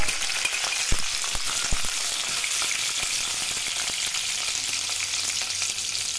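Chillies and onions frying in a pan, a dense, loud, hissing sizzle that runs steadily throughout with a few light utensil taps, close up and with no voices.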